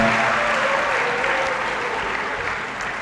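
Graduates and guests applaud at a university congregation ceremony in a great hall, an even, reverberant roar of clapping that holds steady and fades slightly.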